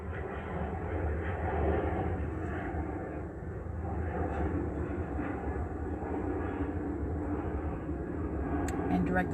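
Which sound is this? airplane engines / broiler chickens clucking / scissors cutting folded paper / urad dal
airplane engines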